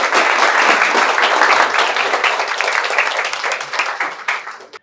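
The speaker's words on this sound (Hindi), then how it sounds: "जोरदार तालियों के साथ सर का स्वागत किया जाए।" Loud, sustained applause from an audience welcoming a guest at a talk, dense clapping filling the whole stretch before tapering off at the end.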